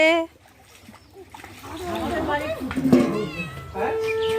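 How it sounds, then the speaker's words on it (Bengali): A cat meowing outdoors in the sun near a spot where fish is being washed, several drawn-out meows mixed with splashing water, while people talk nearby. "মিউ মিউ করছে"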